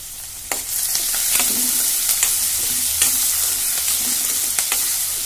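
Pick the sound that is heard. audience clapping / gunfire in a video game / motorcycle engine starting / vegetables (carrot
vegetables (carrot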